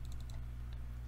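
A computer mouse in a programming console clicks a few times in quick succession, small crisp taps close up and faint, with no voices.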